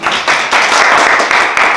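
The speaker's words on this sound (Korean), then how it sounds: "박수 한번 주시겠어요?" An audience claps together after a student team's presentation, steady loud applause close by that holds for a couple of seconds.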